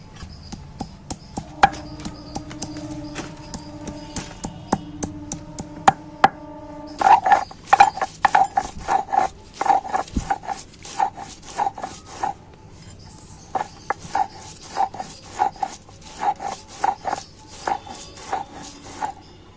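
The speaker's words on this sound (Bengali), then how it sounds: "মাছটা একটু ভালো করে সেদ্ধ হতে হতে আমি আদা রসুনটা শিলে পিষে নেব" Ginger and garlic ground on a stone slab, a close, steady run of rough rhythmic scraping and knocking strokes that starts after a quieter stretch, with brief pauses between bursts.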